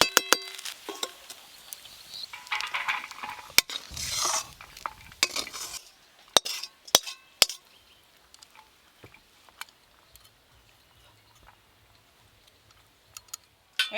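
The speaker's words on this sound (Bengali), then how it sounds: "তুই যত খুন্তি নাড়তেছি তত সেন্ট উঠতেছে" A metal spatula stirs rice with pointed gourd in a pan, quick scraping and clinking strokes up close for several seconds, then sparser taps over a faint sizzle.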